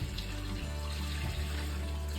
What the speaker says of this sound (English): Pouring that water all over that ham.